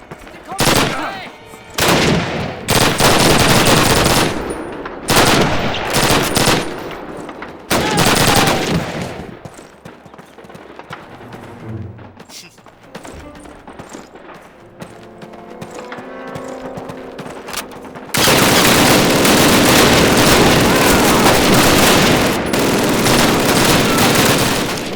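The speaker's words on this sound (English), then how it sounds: "That beautiful machine gun sound." PPSh submachine gun firing in Call of Duty, loud rapid automatic bursts separated by short pauses, then a quieter stretch of other game sounds before a long sustained burst of fire.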